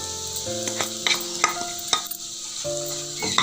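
Potato pieces for aloo pickle stirred and sizzling in hot oil in a pan, a steady crackling hiss with scraping stirs, heard under a loud musical backing.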